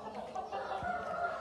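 A hen being handled for insemination clucks softly a few times, close but fairly quiet, with a low background murmur and no clear speech.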